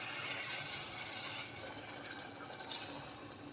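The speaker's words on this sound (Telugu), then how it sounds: "ఇప్పుడు దీంట్లోకి వాటర్ అయితే యాడ్ చేస్తున్నానండి" Water pours steadily into a pan of cabbage and egg curry, a continuous soft splashing rush at close range with no talk.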